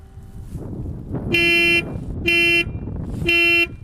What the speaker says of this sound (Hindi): चलिए अब आपको इसका एक बार हॉर्न सुना देते हैं कि इसका हॉर्न कैसा है।